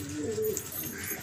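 Pigeons cooing nearby in a loft, a brief low murmuring coo rising and falling over faint background noise.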